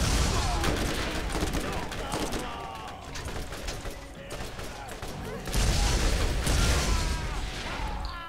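Heavy gunfire from the Borderlands shooter game roars in dense, continuous bursts with a few sharp pops and booms. The shooting stays loud and close throughout, easing briefly in the middle before surging again.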